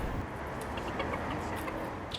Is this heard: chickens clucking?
yes